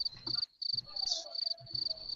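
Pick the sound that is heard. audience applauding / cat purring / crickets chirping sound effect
crickets chirping sound effect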